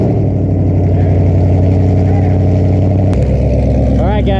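A car engine runs steadily under continuous loud exhaust drone, its pitch shifting partway through as the revs change, followed by brief rising blips near the end.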